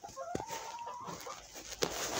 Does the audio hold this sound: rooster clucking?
yes